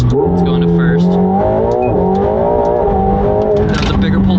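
A McLaren 750S supercar accelerates hard in first gear, its engine note rising steadily loud and close from the cabin, with a brief dip at a shift and talking over it.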